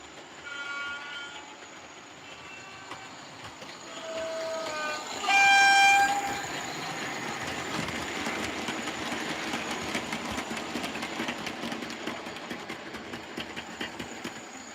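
A model railway Class 20 locomotive runs on the layout track with a continuous rolling rumble and clicking, punctuated by short horn-like tones, the loudest burst coming near the middle before a steady running sound continues alone.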